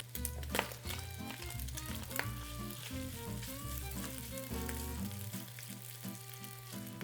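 Pork pan-frying in oil over medium heat for a Hakka stir-fry, a steady soft sizzle under a constant low hum, with light crackles, fairly faint.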